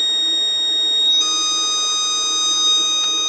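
A Kentec Syncro fire alarm panel sounds its evacuate alarm as a steady, continuous electronic tone that shifts pitch partway through, loud and close with no talking.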